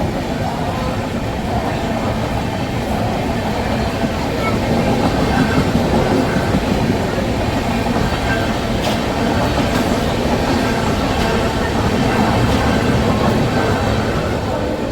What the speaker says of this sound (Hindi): Tamil Nadu superfast express.